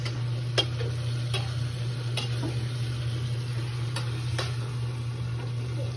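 Dried fish is stirred in a pan, with a few sharp scraping ticks over a steady low hum and faint sizzling. Nobody speaks.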